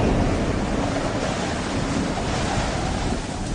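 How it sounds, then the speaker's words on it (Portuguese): Strong wind blowing over the sea along the coast of Crete, a loud, constant rushing roar with surf-like wash, dense and unbroken from start to finish with no voices. "um vento muito forte"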